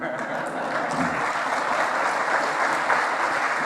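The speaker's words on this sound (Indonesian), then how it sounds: "Tepuk tangan" Steady applause from a lecture audience at UII in Yogyakarta, continuous and fairly loud across the whole stretch, with a few voices mixed in beneath the clapping.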